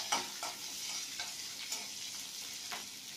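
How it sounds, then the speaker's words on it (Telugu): Garlic with vegetables stir-frying on high flame: a faint, continuous sizzle with light, irregular ticks and scrapes of the spatula tossing the pan. "ఇది కొంచెం ఫ్రై అవ్వాలి."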